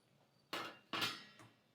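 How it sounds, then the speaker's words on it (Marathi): A metal lid set onto a pot of okra cooked in curd makes three close, bright clinks and clatters in quick succession, each ringing briefly before fading, with no talking. "यावरती झाकण ठेवणार आहे"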